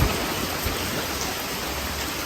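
Dense, steady rainfall pours down without a break, a broad even hiss with no voices.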